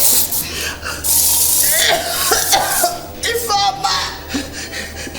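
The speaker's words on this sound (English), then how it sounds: "Spray it into her face." Spray hissing into an asthmatic woman's face during a Nigerian movie scene, followed by harsh, repeated coughing and choking, close and loud, with voices talking over the commotion.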